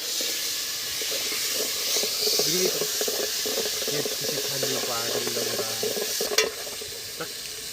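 Spice paste frying in a pan at an outdoor forest cooking spot and being stirred, giving a continuous hiss and sizzle with scraping and people talking over it.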